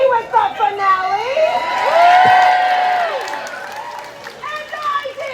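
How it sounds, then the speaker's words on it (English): A crowd at an outdoor circus show on a rainy day shouts and cheers. A loud swell of whoops builds and fades over a few seconds, with excited voices and children's cries around it. "Applause."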